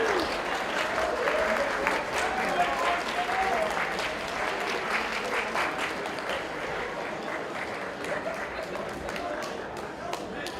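A crowd at a state finals awards ceremony applauds Mooresville High School's Super Smash Brothers state champions, with sustained clapping and some cheering that gradually tapers, and voices mixed faintly underneath.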